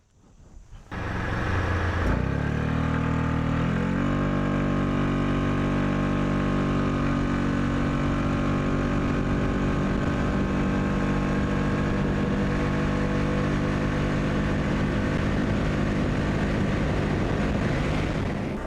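A SYM ADX TG 400 scooter starts up and cruises along a highway, its engine drone steady and loud throughout with rising pitch as it accelerates and wind rush layered on top; no talking.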